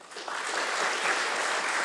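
Audience at a school board meeting applauding volunteers, a steady, dense burst of clapping from a roomful of people that swells and holds throughout.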